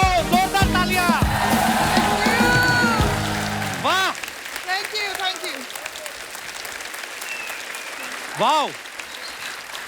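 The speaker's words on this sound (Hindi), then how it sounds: "जोरदार तालियां।" Loud applause from a comedy talk show studio audience fills the first few seconds, then fades as people speak and exclaim appreciatively.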